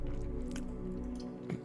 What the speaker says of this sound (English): Can you hear the goldfish crunch?